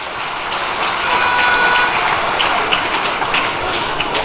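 Audience applauding MPs at the 2024 NDC manifesto presentation, a dense, steady wash of many hands clapping that swells slightly and continues throughout with no talk.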